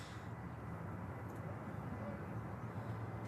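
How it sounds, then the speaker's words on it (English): A Ryanair airliner departing Manchester Airport on a wet runway, a steady low engine roar heard from a distance, holding evenly throughout. "Ryanair next to depart."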